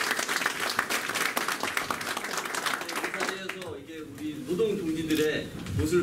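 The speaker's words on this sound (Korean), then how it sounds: "큰 박수로 환영해 주시기 바랍니다." Audience applause greeting a speaker at a Democratic Party campaign rally for a Seoul mayoral candidate, dense and steady for about three seconds before thinning out as a voice begins speaking over it.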